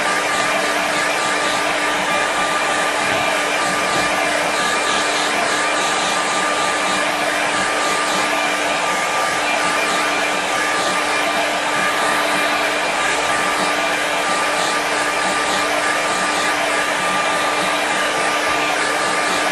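An electric hair dryer blows on a watercolour winter landscape painting to dry it: a loud, constant whooshing roar with a steady whine, running unbroken throughout with no talking.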